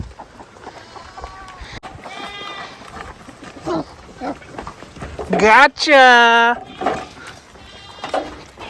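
Baby goats bleat in sharp, quavering cries while being chased around a farm pen, with a burst of loud calls midway, and a person talks and exclaims throughout.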